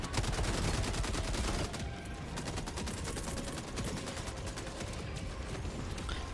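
Dense, continuous gunfire and explosive bursts from an enemy-called mortar strike in a Battlefield video game, a loud rattling barrage that runs the whole stretch with no pause.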